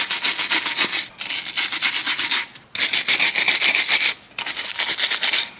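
Brake pad guide surfaces on a 2021 VW T-Cross are scrubbed clean, producing close, harsh rasping strokes in three long back-and-forth bursts separated by brief pauses.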